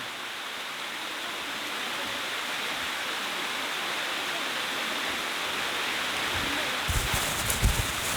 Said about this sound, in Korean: 와, 폭포다.